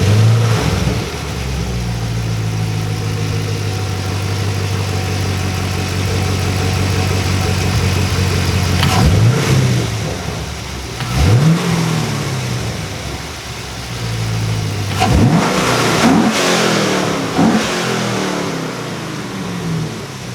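A Chevrolet Camaro SS 1LE with a newly installed cold air intake idles with a deep, steady rumble, then gets several sharp revs that rise and fall, up close and loud.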